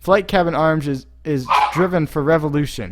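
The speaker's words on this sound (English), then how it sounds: "that's my dog." A dog barks and yips repeatedly in a room, mixed in with a person talking over it throughout.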